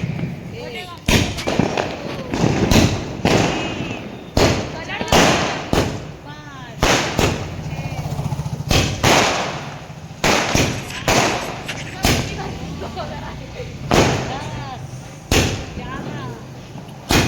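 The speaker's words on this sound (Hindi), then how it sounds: "और बस बम फटाके बच्चे फोड़ रहे थे" Diwali firecrackers and bombs set off by children burst in a long irregular series of sharp, loud bangs, some close together and some spaced apart, with voices talking in the background.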